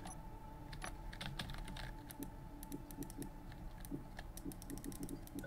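Rapid, irregular keystrokes clatter on a computer keyboard during play of Space Engineers, quiet and close with short bursts of clicks and a faint background hum.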